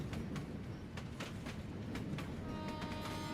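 A train runs steadily in the video game Deep Sleep: Labyrinth of the Forsaken, a constant rumbling roll with rhythmic wheel clacks throughout, heard from inside the carriage, with no voices.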